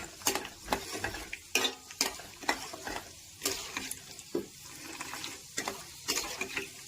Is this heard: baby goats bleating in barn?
no